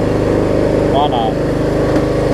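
A Troy Bilt Bronco riding mower's engine runs loud and close during a test ride, a steady chugging drone that continues under brief speech.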